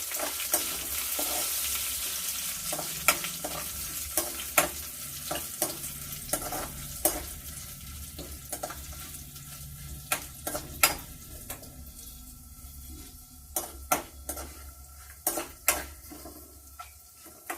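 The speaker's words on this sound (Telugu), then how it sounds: "జీలకర్ర 3 వేసేసుకుందాం. వేసుకున్న తర్వాత కొంచెం మీడియంలో పెట్టి వేయించుకుందాం." Cumin seeds sizzle in hot oil in a pan while a spoon stirs them, giving a steady frying hiss broken by irregular metallic scrapes and clicks against the pan.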